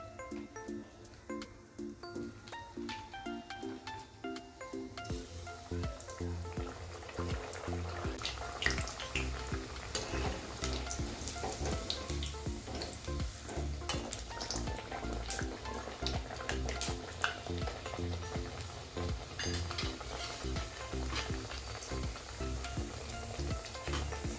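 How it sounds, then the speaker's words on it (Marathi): Gharya, sweet Marathi puris, frying in hot oil with a steady loud sizzle and bubbling. Occasional clinks and scrapes of a utensil sound close by, and nobody speaks. "दोन थापून झालेले आहेत आपण तळायला घालूया आता तेल तापलेलं आहे"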